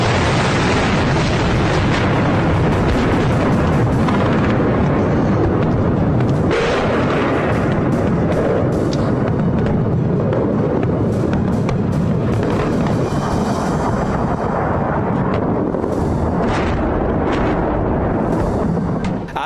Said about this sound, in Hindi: इतने धमाके हो रहे हैं कि गिनना मुश्किल हो रहा है।